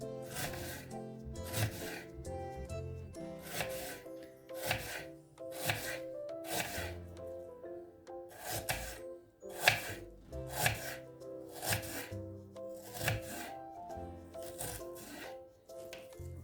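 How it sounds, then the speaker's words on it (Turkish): A knife chops half an onion on a board in a steady run of quick, crisp strokes, close and clear, with short pauses between bursts, while preparing a mushroom chicken sauté. "soğanımı doğrayacağım"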